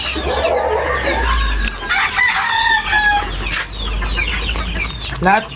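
Chickens in a breeding area, hens and roosters, cluck and crow close by, with a loud rooster crow rising over steady clucking and a low background rumble. A voice speaks briefly among them.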